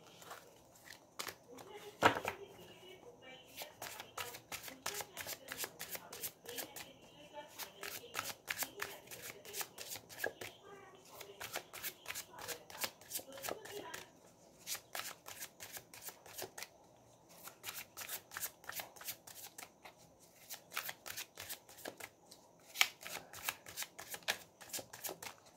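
Tarot cards being shuffled in quick, continuous riffling bursts over most of the stretch, with brief pauses between runs. The sound is fairly faint and close, with soft talk faintly underneath at times.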